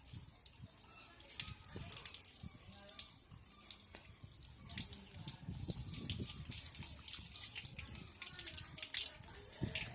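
Water runs from a tap while feet are washed, a faint, continuous splashing and trickling with small drips, and a person speaks quietly over it now and then.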